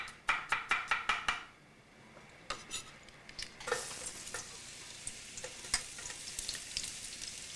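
Garlic frying in a pan: a few sharp knife or utensil taps at the start, then a steady close sizzle with occasional clinks and stirring scrapes.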